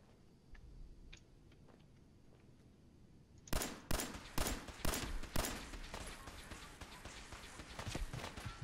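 Rapid bursts of combat pistol gunfire in Fallout 4 begin after a few seconds of quiet ticking, with shots cracking loudly in an irregular series over continuous game noise.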